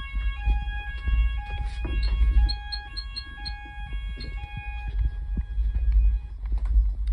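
A fire alarm sounder going off during an addressable fire alarm system test, repeating tonal beeps and a warbling pattern over a low background hum, fairly close and without talking.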